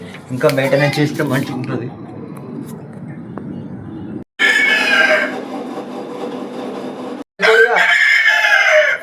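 Chickens cluck and a rooster crows at a temple during a Nagula Panchami visit, loud nearby bird calls in bursts separated by brief gaps, with a person talking.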